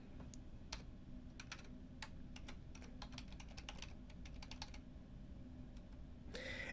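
An email address and password being typed on a computer keyboard at a login page, irregular bursts of close key clicks over a steady low hum, with no talking.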